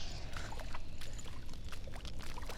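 Water in the Hellblade: Senua's Sacrifice video game, trickling and splashing softly with irregular pouring bursts over a low rumbling background, no speech.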